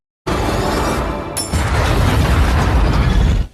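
A film explosion as a soldier drops a captured explosive: a sustained loud roaring blast with a sharp crackling burst near the start, rumbling on densely for over three seconds.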